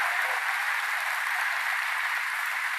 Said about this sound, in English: Let's give them another round of applause for their leadership.